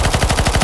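Rapid automatic gunfire in the CS:GO zombie escape mod, on the ze_Bathroom_v2_5 map, a steady close burst of repeated shots with no pauses.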